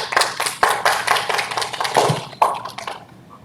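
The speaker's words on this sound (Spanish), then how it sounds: "Recibámoslo con fuerte aplauso, por favor." An audience at a lecture on microwave remote sensing in snow hydrology claps to welcome a speaker, a dense burst of applause that fades out near the end.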